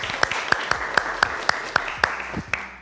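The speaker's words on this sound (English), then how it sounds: "Give yourselves a round of applause." A single person claps about ten times in a steady, evenly spaced rhythm. The claps are sharp and distinct, fairly close and moderately loud, with no voices over them.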